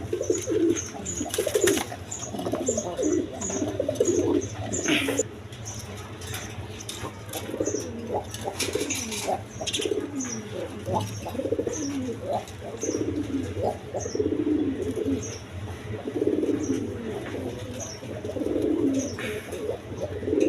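Pigeons at a breeding farm coo repeatedly in a busy flock, soft throaty rolling calls overlapping close by throughout, with some chirps and someone talking intermittently over them.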